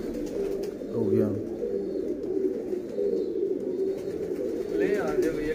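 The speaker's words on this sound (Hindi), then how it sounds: "एक जालदार कबूतर लाया अंदर से" Pigeons coo in a repeated low throaty rhythm, fairly close, joined by a couple of brief chirps. Someone talks faintly in the background.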